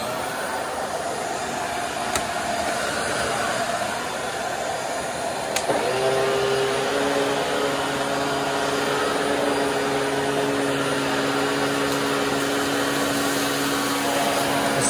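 A Bissell Pet Hair Eraser swivel vacuum cleaner picking up a mess, a loud continuous motor roar that rises into a steadier, higher whine partway through, close up and with no talking.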